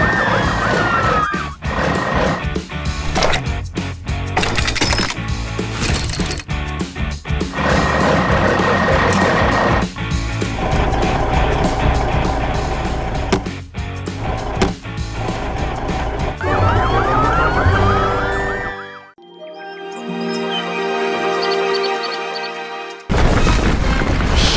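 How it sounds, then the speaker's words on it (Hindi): Animated blue police car on patrol with a wailing siren rising and falling amid loud city and vehicle noise and booms, followed by a stretch of pulsing electronic tones. "यहाँ नीली पुलिस की गाड़ी सड़कों पर गश्त लगा रही है"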